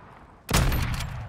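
Gunfire erupts suddenly in the video game Call of Duty Warzone 2.0, a loud, sustained burst of rapid shots that starts abruptly after a quiet moment.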